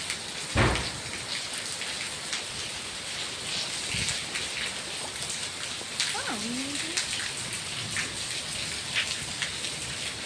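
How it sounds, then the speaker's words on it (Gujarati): Steady rain patters on surfaces throughout, with a sharp knock early on and faint voices and a brief tonal sound in the background. "એ વરસાદ વરસાદ થયો પાણી આવતા છે"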